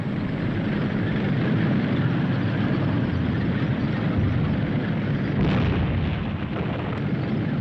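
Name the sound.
tank gunfire during a military exercise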